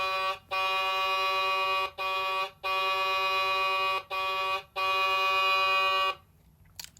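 Horn effect from a 2022 Hess toy flatbed truck, a loud electronic tone sounding in five bursts of uneven length with short gaps, then cutting off to near silence.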